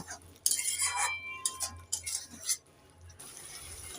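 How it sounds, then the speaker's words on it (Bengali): A spoon stirs flat beans with salt, sugar and spices in a pan, giving soft scraping and light clinks against the metal in a quiet kitchen, moderately close, with no talking. "নেড়ে চেড়ে মশলার সাথে সিমটাকে আমি দু মিনিট ভালো করে কষে নেব"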